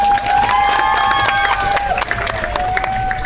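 A large outdoor political crowd cheering and clapping for Samajwadi Party MP Dimple Yadav, a loud dense roar of applause and shouts with whistles or a sustained tone riding over it throughout.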